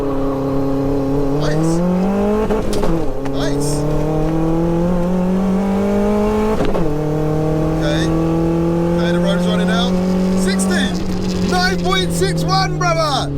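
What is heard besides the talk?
turbocharged 1L Nissan Micra accelerating on a run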